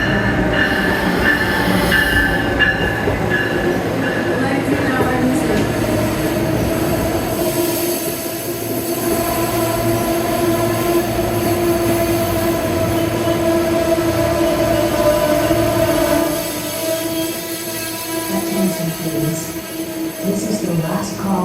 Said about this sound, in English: Here comes train 193, the southbound Northeast Regional to Washington Union Station.